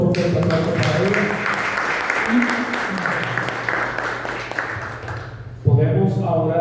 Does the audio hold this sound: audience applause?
yes